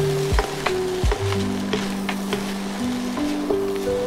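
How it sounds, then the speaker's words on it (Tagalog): Corn stirred into spam fried multigrain rice in a hot pan, a loud continuous frying hiss with repeated scraping strokes of a spatula, close and alone. "Then, lagay natin yung corn. Ayan, mix lang ulit."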